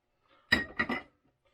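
A spoon clinks twice in quick succession against a bowl while melted butter, brown sugar, cinnamon and graham crackers are mixed for a cheesecake crust. The clinks are short and fairly quiet, with near silence around them.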